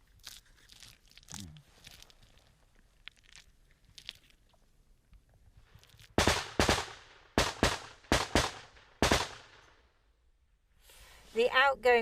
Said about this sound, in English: The outgoing machine gun fire from the Ukrainians is aimed at suppressing the Russians so they don't fire back.